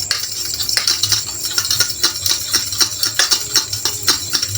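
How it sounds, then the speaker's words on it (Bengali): Spoon clinking and scraping against a bowl while egg, salt and ginger-garlic paste are mixed, giving a fast, steady metallic tapping that is close and bright, with no voices. "এবার এটাকে ভালো করে মিক্স করব"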